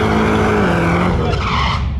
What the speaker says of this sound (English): we're just gonna go out here and do what we do and run it down the track